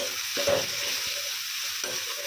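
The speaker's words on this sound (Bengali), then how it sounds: "অল্প একটু কাশ্মীরি লঙ্কার গুঁড়ো দিয়ে দিচ্ছি এরপর এটাকে খুব ভালো করে মিক্স করে নিচ্ছি" Spices with a pinch of Kashmiri chili powder sizzle steadily in a frying pan for dhaba-style tadka dal, broken by repeated scraping strokes of a spoon as the mixture is stirred.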